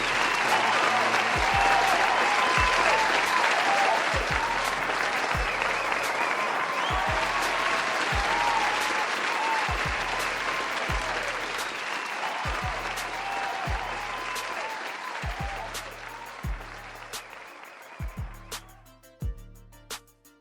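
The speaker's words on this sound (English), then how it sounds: "give yourself a round of applause." A long stock round of applause from a crowd, dense and loud at first, then gradually thinning out and fading toward the end, with a regular low thumping beat running beneath it.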